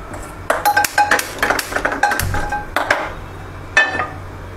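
A kadhai and pots clank and clink against a gas stove in a home kitchen, a run of sharp metallic knocks and scrapes in irregular bursts, close and fairly loud, with no one talking.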